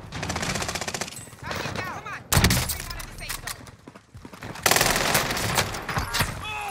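Bullfrog submachine gun fire in Call of Duty: rapid automatic bursts, close and loud, stopping and starting in several strings, with a voice talking between and under the shots.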